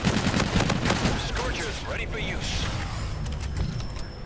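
The Scorcher weapon firing in Infinite Warfare, a loud dense barrage of rapid blasts and booms that eases into a rumbling tail, with a game voice speaking over the start.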